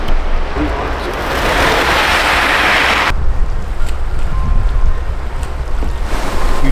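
A boat moves along a creek's rushing current toward a main channel with whirlpools in the Northern BC and Alaskan wilderness, a loud steady wash of water and wind noise with faint voices underneath.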